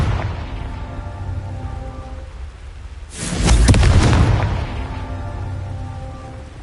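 A Confringo blasting spell explodes in Hogwarts Legacy, a single loud broadband burst about midway that swells and lingers for a second or two over a steady ambient game bed, with no talking.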